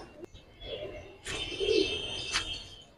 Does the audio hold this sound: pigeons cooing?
yes